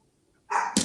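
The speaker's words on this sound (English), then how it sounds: "That's my dog cutting up" A dog gives two quick sharp barks, close and loud, after a moment of near silence.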